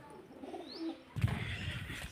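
Female pigeons coo in their coops, a low rolling murmur close by, with soft chirps and a short rustle of movement partway through.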